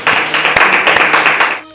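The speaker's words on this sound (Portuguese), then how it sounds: "Podíamos aplaudir o Senhor por essa palavra" Church congregation clapping together in a steady, dense burst of applause that fills the room, loud and close, with faint voices mixed in before it fades out.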